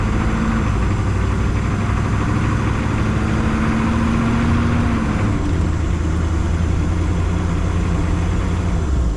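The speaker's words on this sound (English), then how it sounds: "we're gonna take the Humvee out for a drive." A 1987 AM General Humvee engine runs steadily as the vehicle sets off for a drive, a loud, dense, continuous rumble with a low drone that dips slightly midway, close to the microphone throughout.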